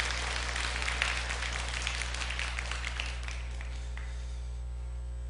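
A church congregation applauds two newly ordained elders, steady and fairly distant applause filling a large hall over a low background hum, tapering off toward the end.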